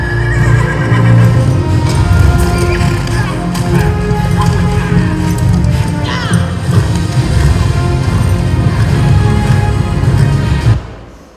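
Horse neighing and whinnying loudly up close alongside clip-clopping hooves, a busy, continuous stretch that cuts off abruptly near the end.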